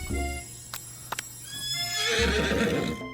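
A horse in a video game whinnies loudly twice with a shrill, wavering neigh, separated by a few sharp clicks and hoofbeats, with no talking.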